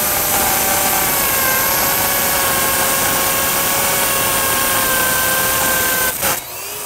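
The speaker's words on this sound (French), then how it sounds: "on veut toujours commencer en angle 45 pour que la mèche puisse couper dans la surface pavée" A masonry drill bit grinds into a paved concrete surface at a retaining-wall construction site, a steady loud whirring drone with sustained high tones that cuts off abruptly near the end.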